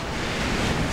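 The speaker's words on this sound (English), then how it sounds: "we're just having one hell of a windy effing day out here" Strong wind roaring and buffeting, a dense steady rush of noise with no pauses or voices.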